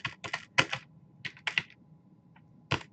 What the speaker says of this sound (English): because I'm going to provide these notes that I'm typing for you also with the video.